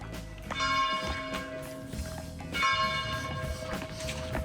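A bell rings twice with a resonant, lingering tone, the second strike about two seconds after the first, each decaying slowly.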